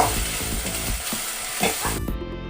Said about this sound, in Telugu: పచ్చి కొబ్బరి ముక్కలు కూడా మంచిగా వేగాలి